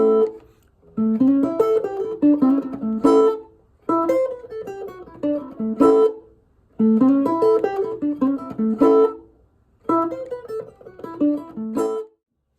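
Electric blues guitar plays short single-note licks in an early blues style, several phrases separated by brief pauses, then ends on a ringing chord. The tone is clean, loud and close, with no talking.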